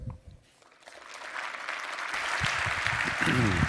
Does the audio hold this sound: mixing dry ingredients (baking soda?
no